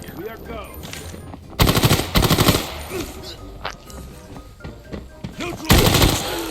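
An M249 machine gun fires in the video game Arena Breakout in two loud, rapid bursts about a second long each, separated by quieter game ambience with scattered footsteps and distant noises.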